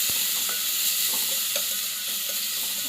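Fenugreek leaves fry in a hot pan with a loud, dense, continuous sizzle close by, broken by occasional light stirring scrapes.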